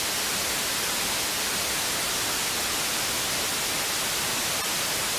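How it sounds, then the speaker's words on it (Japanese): Steady hissing TV static from the video game LSD fills the whole span, a constant broadband noise at even loudness with no other sounds. "砂嵐は母親の体内の音に似ているなんて話もありますよね。"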